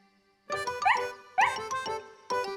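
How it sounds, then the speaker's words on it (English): Cartoon dog Snuffy gives several quick, bright, high-pitched happy barks and yips in short bursts, close and clear against a quiet background. "Said Snuffy, barking happily and wagging her tail."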